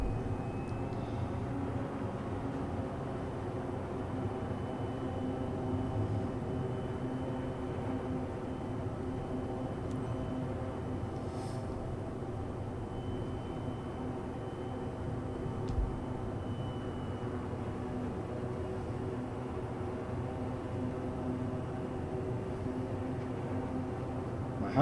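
Constant droning engine hum of an aerial firefighting aircraft in flight in Microsoft Flight Simulator 2024, a steady, moderately loud tone that holds throughout with faint clicks now and then.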